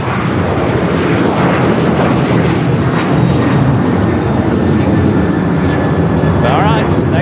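A fixed-wing airliner landing on runway 25 Left at Los Angeles International Airport, a loud steady engine roar with wind noise filling the whole span, while people talk over it nearby.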